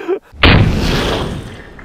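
A single loud, close gunshot from a .45 ACP pistol fired into a torso target, a sharp crack that trails off into a fading echo, with no voices.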